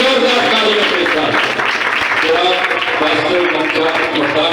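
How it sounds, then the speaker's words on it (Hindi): A congregation at a church service welcoming the pastor with sustained, dense applause, a loud continuous patter of many hands clapping for several seconds with faint voices underneath. "वेलकम कीजिए जोरदार तालियों के साथ"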